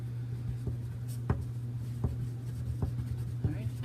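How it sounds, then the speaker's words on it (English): A pen scratches a name onto a paper craft in short rhythmic strokes, close and fairly quiet over a low steady hum. "And then don't forget to write your name on this."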